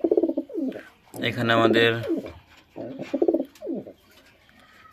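Racing pigeons coo in a loft, a few soft throaty bursts heard close up between stretches of someone talking.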